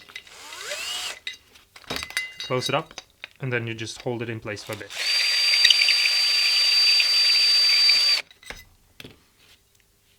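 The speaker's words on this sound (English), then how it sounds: "You just put it through, put it in your drill" A power drill spins a grinding stone inside a hole in a pedal enclosure, whirring steadily for about three seconds near the mic after talk that carries on over brief handling noises.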